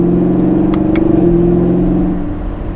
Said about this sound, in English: The exhaust has a nice rumble to it.